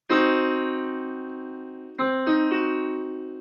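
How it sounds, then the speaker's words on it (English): A piano plays a diminished triad; the chord rings out and decays, followed by its notes played again, sustained and clear, close and moderately loud. "a diminished triad sounds like this"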